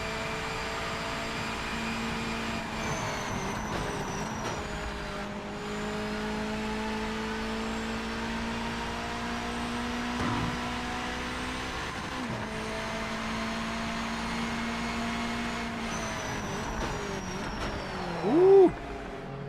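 A Mazda MX-5 engine in the racing game Project Motor Racing drones steadily, its pitch rising and dropping through gear changes and corners over about twenty seconds, with a short louder burst near the end.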